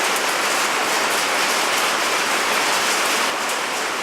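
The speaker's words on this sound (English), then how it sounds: "Now it's the hailing." Hail and rain fall outdoors over a garden in a dense, continuous rushing roar with faint scattered ticks of impact, steady and fairly loud from start to finish.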